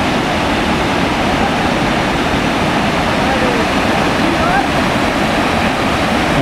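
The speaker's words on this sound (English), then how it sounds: "now we've reached High Falls, which has a tremendous amount of water" High Falls in Dupont State Forest, carrying a heavy volume of water, roars as a loud, dense, unbroken rush that fills the scene close up, with someone talking faintly under it.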